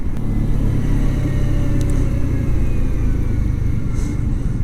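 A Kawasaki Z125 Pro, a 125cc single-cylinder motorcycle, slows in city traffic with gears dropping and engine braking, a close continuous rumble with a slight rise in revs.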